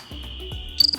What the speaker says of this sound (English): The cricket